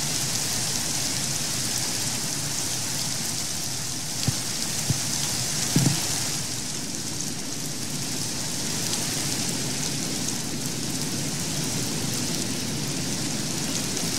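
Steady rain falls in a Minecraft modpack game, a constant hiss of drops on surfaces with a few faint knocks partway through, with no voices.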